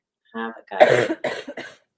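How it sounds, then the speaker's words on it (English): A few harsh coughs in quick succession, close and fairly loud, with a brief throaty sound just before them. "Excuse my cough, my throat is getting dry."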